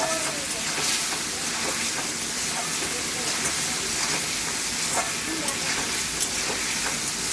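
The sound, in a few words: eggs sautéing with curry masala in a pan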